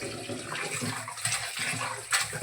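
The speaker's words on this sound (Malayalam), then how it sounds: "ഇറച്ചി കഴുകാം." Raw pork being washed in water in a kitchen, a steady running, splashing wash with water sloshing over the meat, close and fairly loud throughout.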